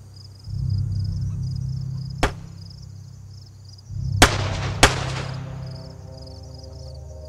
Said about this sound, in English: I ended up in Borek, which happened to be a place of a firefight